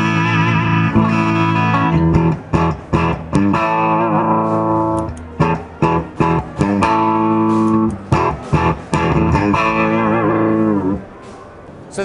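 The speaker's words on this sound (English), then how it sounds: "So you can kick that in, get a little bit more preamp distortion" Distorted electric guitar through an Ibanez amp with added preamp distortion, thick crunchy chords and riffs played continuously with brief stops, loud and close.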